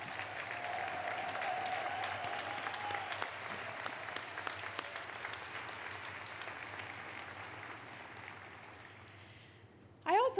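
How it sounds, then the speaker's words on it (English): Convention audience applauds its staff in a large hall, a steady wash of many hands clapping that holds evenly for about ten seconds, then tapers slightly before a brief louder burst at the very end. "could you give them one additional round of applause?"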